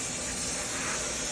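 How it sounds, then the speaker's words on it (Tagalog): A water sprayer hisses steadily against a mini split air conditioner unit during cleaning, a close, continuous, bright spray with no breaks. "Spray ka dito lang sa dulo."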